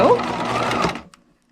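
A sewing machine stitches the seams of a Barbie doll top in a quick, close whirring run that stops abruptly after about a second, with a voice faintly present.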